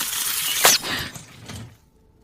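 Glass bottle shattering in a horror film scene: one sharp crash followed by a brief spray of tinkling shards that fades out within a second or two.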